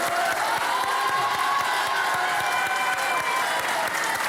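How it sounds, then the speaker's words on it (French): A studio audience gives sustained, dense applause for a French television show, loud and continuous with a few faint cheers mixed in. "Et je voudrais un applaudissement pour l'émission."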